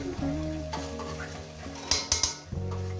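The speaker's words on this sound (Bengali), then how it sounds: "এই মাছটাকে দিয়ে আমি আরও তিন চার মিনিট একটু ভেজে নেব" Fish fries in a pan alongside fenugreek greens, a close sizzle broken by a utensil stirring and a few sharp metallic scrapes and clinks near the end.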